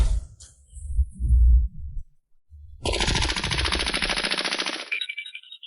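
Animated-story gunfire effect: low thumping bursts at first, then after a brief gap a loud, sustained rapid machine-gun rattle lasting a few seconds, up close with no speech.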